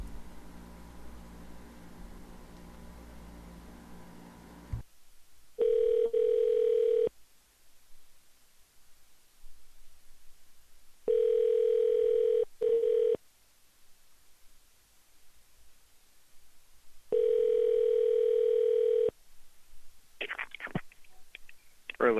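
Telephone tones while dialing a number: a broadband hiss gives way to three separate steady beeps of about two seconds each, spaced several seconds apart, with a brief crackle near the end.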